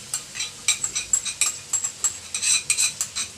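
A spoon stirs yogurt into mutton karahi in a pan, giving repeated close metallic scrapes and clinks in a steady rhythm with a faint sizzle underneath and no talking.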